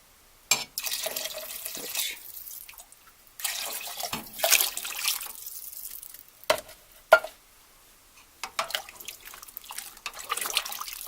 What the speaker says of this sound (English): And 4 cups of water.